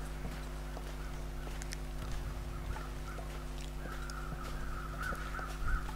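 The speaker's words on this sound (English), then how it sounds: "I thought I heard crows." Crows caw intermittently in the distance over a steady low hum and faint background noise in the video game The Long Dark.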